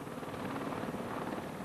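A steady, dense rotor drone with a rapid chopping pulse, continuous and even in loudness, from a V-22 Osprey tiltrotor aircraft flying nearby.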